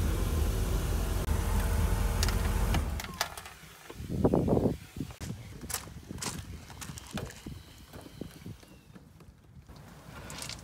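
Boat engine idling as it warms up for winterizing, a steady low rumble for about three seconds that gives way to quieter clicks and knocks nearby.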